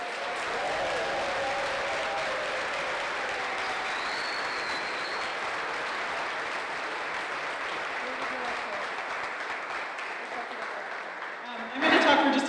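Sustained applause from an audience at a book reading fills the room, dense and steady, fading slightly before a louder burst at the very end.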